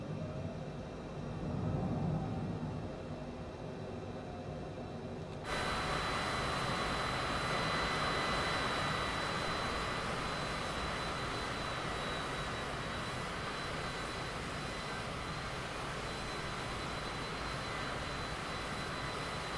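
A Cessna Citation CJ4 business jet in Microsoft Flight Simulator 2020 on approach with flaps set, a steady broadband jet engine roar that swells sharply as throttle is increased and then holds loud and even.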